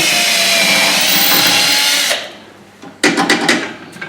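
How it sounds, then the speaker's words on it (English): A power drill bores into a wooden snowman carving, a loud steady whine for two seconds, then stopping and starting in short bursts. "So all I'm going to do is put it on just off the centre and drill down"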